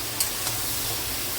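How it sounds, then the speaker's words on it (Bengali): Taro stems frying in a pan with salt and turmeric give a faint, steady sizzle with a small stirring tick near the start, brief and quiet, with no talking. "এটাকে আবারও ভালো করে ভাজা ভাজা করে নেব।"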